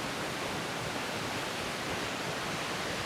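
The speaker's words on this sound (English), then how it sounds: "I feel like I can hear a waterfall" A waterfall roars inside a cave, heard as a dense, unbroken rush of broadband noise that stays loud and constant throughout with no voices.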